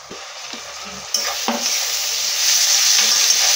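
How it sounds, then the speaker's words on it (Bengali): Ginger garlic paste fries in a pan with a close, steady sizzle that swells as it is stirred, punctuated by a few scraping clinks of a spoon against the pan. "আর রসুনটা ভালো করে ভেজে নেব।"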